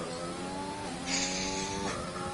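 A race car in a sim racing game spins out at the Italian Grand Prix: the engine drones with shifting pitch while tyres squeal across the middle of it, steady and fairly close.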